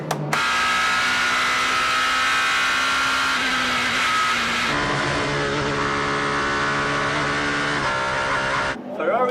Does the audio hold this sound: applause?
no